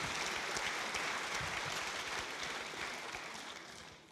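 Audience applause at a French history talk, a steady dense wash of clapping from a crowd that holds evenly and then fades slightly toward the end, heard alone at moderate distance.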